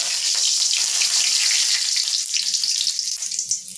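Curry leaves dropped into hot oil for tomato chutney give a loud, dense, continuous sizzle and crackle close by, with no voices.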